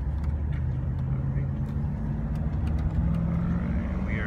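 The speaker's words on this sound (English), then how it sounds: "we are accelerating, entering the highway speed, second gear" A 1999 Dodge Roadtrek Popular 190 motorhome accelerating onto a highway in second gear, heard from inside as a steady, droning engine and road hum at moderate level.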